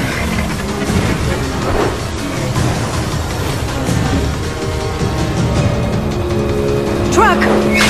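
Taxi car speeding through traffic in Mass Effect 2, a continuous engine drone with whooshing passes and a brief squeal toward the end, loud and steady.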